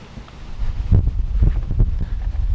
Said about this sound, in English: It's super windy today. I wonder if that's gonna ruin the whole video.